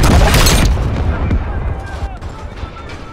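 A scripted explosive charge detonates in the Call of Duty: Modern Warfare video game, a loud, close blast at the start that decays into a long rumbling roar and settling debris, with no speech heard.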